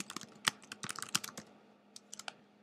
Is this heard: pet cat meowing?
no